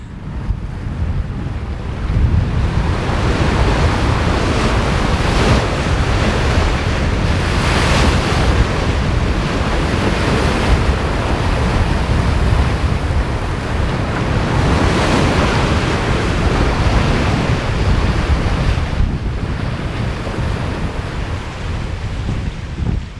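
Strong wind near 30 knots roars across a solo sailing yacht at sea between Martinique and Panama, with loud, continuous rushing wind noise and surging ocean waves washing against the hull throughout.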